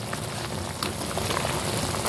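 Pork and chicken adobo simmering in a pot, a dense steady bubbling and popping of boiling liquid, close and unbroken.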